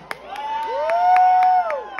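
Children at a Halloween costume party cheer and whoop with rising shrill calls over a spatter of clapping, lively and close, building to a sustained shout before fading.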